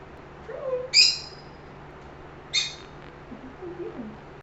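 Small lovebird parrots kept as a household flock give two short, sharp high chirps about a second and a half apart, with softer low chattering later, close by in a quiet room.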